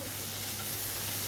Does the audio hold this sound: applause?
no